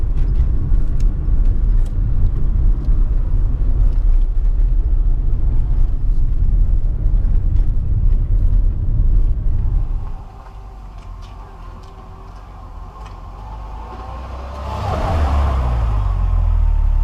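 A BMW E30's inline-six runs loud and steady for about ten seconds, then drops to a quieter, smoother idle before rising again near the end, with no talk.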